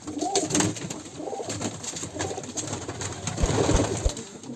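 Kara Kanat pigeons coo in soft, repeated throaty bursts at a farm in a village, close by, with a few low thumps and no talking.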